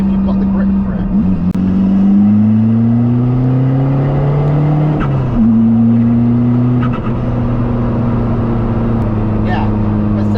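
A diesel-swapped Toyota MR2 accelerating from about 30 to 70 mph while overtaking, heard from inside as a steady engine drone rising in pitch through gear changes. Someone talks over it.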